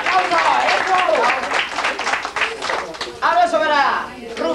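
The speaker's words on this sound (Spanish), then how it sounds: "¡Un aplauso para ella!" Audience applause breaks out at a festive gathering, sustained loud clapping from a crowd with cheering voices, while someone speaks over it.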